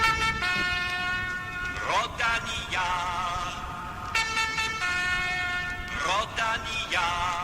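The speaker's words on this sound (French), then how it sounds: "La voiture Rodania ouvre désormais ce podcast comme il ouvre les courses cyclistes belges depuis 1954" Horn of the Rodania car that leads Belgian cycling races, sounding as a loud multi-tone melodic fanfare that repeats twice in close succession over steady background noise.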